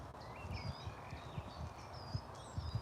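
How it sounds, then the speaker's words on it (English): Melodic blackbird song carries faintly from a distance over a low, steady outdoor rumble, with soft scattered thumps and rustles nearby. "The loudest bird you can hear singing is a blackbird."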